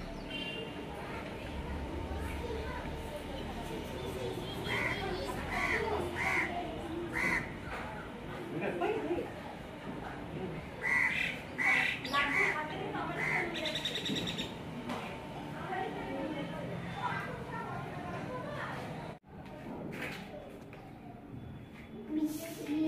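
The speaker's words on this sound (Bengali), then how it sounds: "খালি পাখির আওয়াজ আসছে" Birds call and chirp from trees around a balcony, the calls coming in short bright bursts scattered through steady outdoor background noise, with a voice talking over them.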